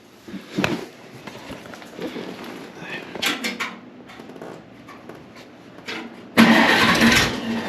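An old tractor engine, long unused, cranks and sputters, then catches and roars to life loudly near the end, with some shuffling and movement noises before.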